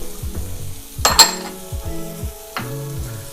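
Freshly chopped garlic sizzles in a pan along with onions and leeks, a soft frying hiss broken by a few sharp clinks of a utensil against the pan.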